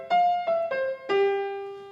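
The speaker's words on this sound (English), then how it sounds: "Here is a generic jazzy motive." A short jazzy melodic motive of four tonal notes, the last one held and slowly fading; clear and alone with no talk.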